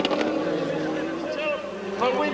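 Ford rally cars race around a wet track, their engines droning and passing in a busy motor roar beneath steady commentary.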